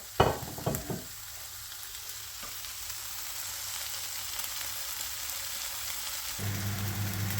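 SPAM and Krakus ham slices fry in a pan with a steady, even sizzle. A few clattering knocks of placing the slices come at the start, and the hiss stays close and constant throughout.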